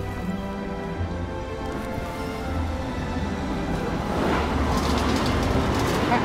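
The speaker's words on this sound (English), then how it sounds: "But here's our tram." A tram pulls in within the Syberia: The World Before video game, a low mechanical rumble with steady tonal hums that swells louder toward the end, over background music and no speech.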